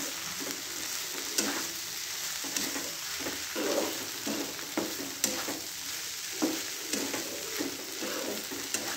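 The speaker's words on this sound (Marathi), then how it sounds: "मस्त असं परतून घ्यायचं आपल्याला." Barnyard millet (bhagar) sautés in a pan with salt, giving a steady close sizzle broken by repeated scraping strokes of a spoon stirring the grains, with no voices.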